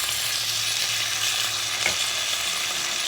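Pepper steak frying in a pan makes a steady, close sizzle with a faint low hum underneath and one brief knock partway through, and no one speaks.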